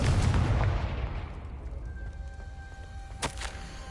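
Confringo fire spell in Hogwarts Legacy: a heavy booming blast at the start decaying into a rumbling tail, followed by a sharp crack and faint ringing tones.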